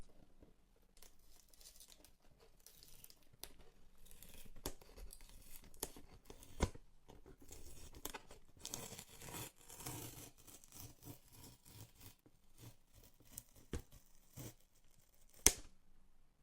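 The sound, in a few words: peeling off packaging film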